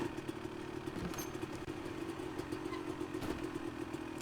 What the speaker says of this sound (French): je t'allume ta moto